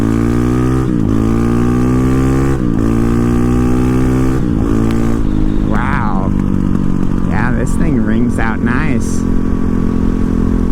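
A Honda CRF450RL dirt bike with a freshly flashed ECU rides along, its loud single-cylinder engine droning steadily with sharp throttle blips at regular intervals, close up, with a voice briefly over the engine.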